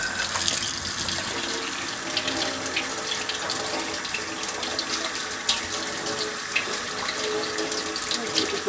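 Cool tap water runs steadily into a sink while an old Saran-haired doll is washed, a constant loud rushing stream with small splashy bumps and no voices.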